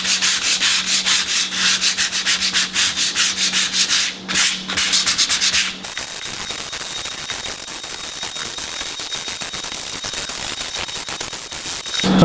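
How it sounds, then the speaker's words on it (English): A handheld sanding tool scrapes across a stone bath mat to remove stains, with rapid rhythmic back-and-forth strokes followed by a steadier continuous grinding rasp, loud and close with no talking. "sanding these areas that have stains on it using the included sanding tool"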